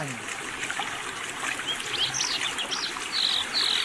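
Birds sing in a forest, with several high, brief chirps and short song phrases scattered over a steady trickling stream. The calls sit at a moderate distance and nothing else is heard.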